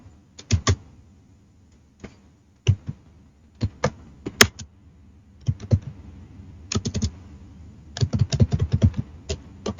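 Computer keyboard keys clatter in scattered, close clicks, with an Enter press and a Ctrl V shortcut among them, ending in a quicker run of typing.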